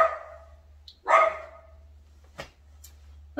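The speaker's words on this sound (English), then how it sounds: "That's my dog in the background." A pet dog barks a few times in the background, one clear woof followed by shorter yips, over a steady low hum indoors.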